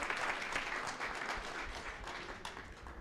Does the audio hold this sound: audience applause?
yes